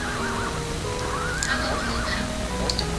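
A horse whinnies in the Crystal Pony Tale video game, a wavering neigh rising and falling over a bed of steady background game music, without talk.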